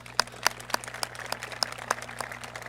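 A small audience at a council member's event gives a quiet round of applause, sparse, distinct claps spread over a few seconds against a low background hum.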